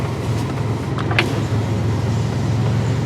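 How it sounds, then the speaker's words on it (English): A 2004 Buick LeSabre engine idles roughly with a misfire, an exhaust leak and a bad motor mount, giving a steady low rumble close by, broken by a couple of faint clicks. "Definitely has an exhaust leak."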